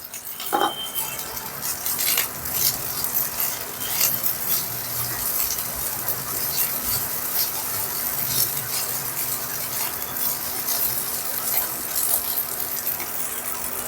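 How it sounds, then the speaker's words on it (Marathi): A utensil scrapes and rattles in a pan as sweet coconut rice (narali bhat) with raisins is sautéed, giving a continuous, uneven, gritty scraping that lasts throughout with irregular clinks. "एक पाच मिनटं असं परतून घेणार आहोत आपण त्याच्यामध्ये थोडं मनुके घालणार आहोत"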